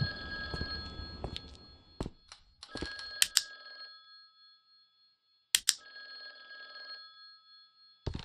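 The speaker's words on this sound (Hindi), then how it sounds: "बेल बज रही, फोन बज रहा है" Telephone bell ringing inside a house in the indie horror game The Guest, sounding in repeated loud bursts separated by short pauses, with a near-silent gap in the middle and the ring starting again at the end.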